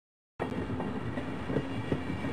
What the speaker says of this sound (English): This automated train is provided for the security and convenience of the Black Mesa Research Facility personnel